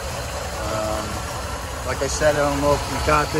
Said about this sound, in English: the motor's just sitting here idling and barely even shaking.